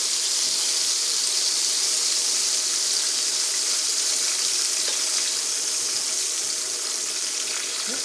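Ground beef browns in a pan on the stove for beef stroganoff, giving a loud, steady sizzle and hiss that continues unbroken and close throughout.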